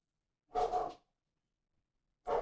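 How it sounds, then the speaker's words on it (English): A hellhound barks in a horror game, two loud, close bursts, one short pair of rough barks and then a single bark after a silent gap, with no talking. "Oh, and the hellhound barks."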